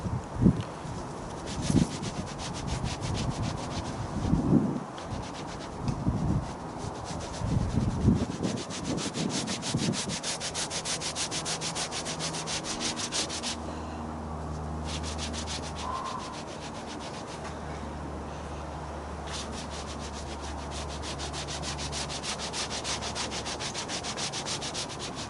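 Protective ceramic coating is rubbed by hand into a Ducati Scrambler seat, close soft scrubbing strokes in uneven bursts at first, then a quieter continuous rubbing with faint low hum beneath.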